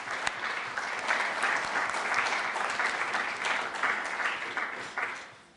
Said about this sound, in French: le règlement prévoit que la présidente est élue par acclamation. Je vous propose donc de passer à l'acclamation.